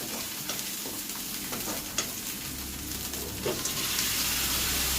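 Chicken pieces fry in a pan with turmeric, ginger and garlic, giving a continuous sizzle broken by a few scraping stirs, and a low hum comes in partway through; no one speaks.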